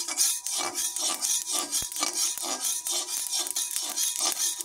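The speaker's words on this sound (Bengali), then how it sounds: "এবারে সর্ষে আর জিরেকে ভেজে নেব।" Mustard seeds and cumin roasting in a pan while being stirred, giving steady, close, rhythmic scraping and rasping strokes with no talk.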